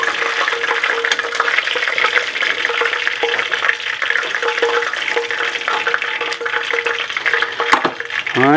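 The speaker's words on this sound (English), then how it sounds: "this is the last batch on the first fry." Chicken wings for Korean-style double fried wings sizzle in hot oil on their first fry, a loud, steady crackling hiss that runs throughout with a light clatter near the end.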